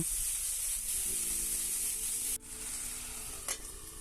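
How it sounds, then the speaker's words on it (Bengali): Tomatoes with salt, turmeric and cumin powder sizzling and being stirred in a pan, a steady loud frying hiss with a brief break and a spatula scrape near the end, close with no voices. "টমেটোর মধ্যে দিয়ে দেব অল্প লবণ, হলদি আর সামান্য জিরার গুঁড়া দিয়ে ভালো করে নাড়াচাড়া করে ঢেকে রেখে দেব"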